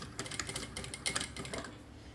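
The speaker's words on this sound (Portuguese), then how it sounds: "E eu vou costurar isso aqui com um retrocesso no início." A sewing machine stitches along a zipper channel with a backstitch at the start, quick mechanical clattering in short bursts, close but fairly quiet, with no voices.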